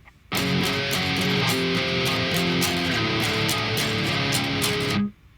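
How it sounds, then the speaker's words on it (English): An 8-string guitar plays one-finger power chords that slide down the neck, a steady run of loud, sustained, lightly driven chords with no pauses, heard alone. "So those power chords all together will sound like this."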